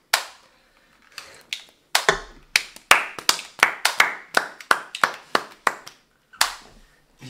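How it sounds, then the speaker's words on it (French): Applause for a speaker on a live stream, heard as a sparse run of loud, separate hand claps that start hesitantly and then settle into an uneven rhythm close to the microphone. "Faut applaudir."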